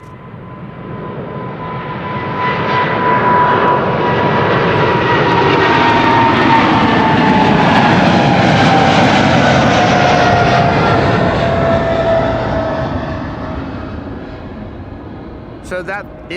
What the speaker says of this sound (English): The next widebody is Qatar Cargo 777 Freighter to Doha